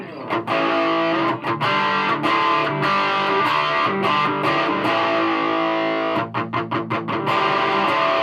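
Loud distorted electric guitar through a Laney HCM30R amp's overdriven distortion channel, sustained crunchy chords with brief choppy stops near the end.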